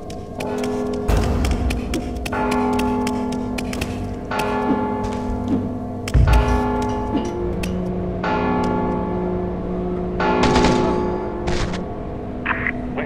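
Bells ringing in the stealth video game Mark of the Ninja, a series of struck tones with sustained harmonic rings over a steady game-music bed, strikes recurring every couple of seconds.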